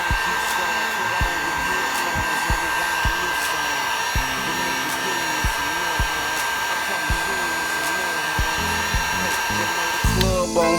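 A heat gun blows steadily while heating the bent plastic wing of a Suzuki DRZ400E dirt bike, a continuous close airy roar with faint repeated clicks and small handling knocks throughout.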